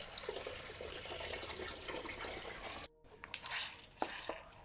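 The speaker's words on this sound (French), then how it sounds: "Et je vais rajouter 10 litres. Avec mon arrosoir." Water from a watering can pours into a hydroponic NFT tank, a steady splashing stream that cuts off abruptly, followed by a few brief drips and light trickles close by.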